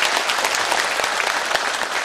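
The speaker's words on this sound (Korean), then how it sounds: "커다란 박수 한번 부탁드려요" A crowd of attendees applauds steadily at a National Assembly debate forum in Seoul, dense clapping filling the room for about two seconds without a break.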